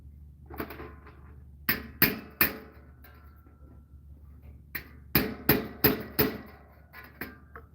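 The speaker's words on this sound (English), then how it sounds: "We use this hammer as a rivet setter." Sharp, loud metallic hammer strikes on a rivet in armour work, coming in irregular clusters of two or three blows separated by quiet pauses.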